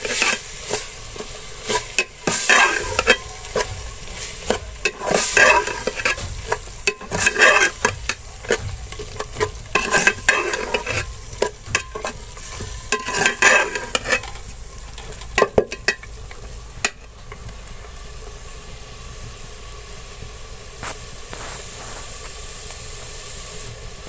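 A spoon stirs brinjal bharta (baingan ka bharta) in a hot pan, producing repeated scraping and clattering strokes over a steady sizzle, busy at first and then settling into a quieter fry.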